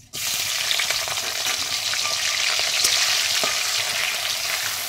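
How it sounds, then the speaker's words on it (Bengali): Prawns frying in hot oil in a wok with black cumin, a loud continuous sizzle and crackle with occasional scraping stirs, starting abruptly and holding steady. "দিয়ে দেব চিংড়ি মাছ।"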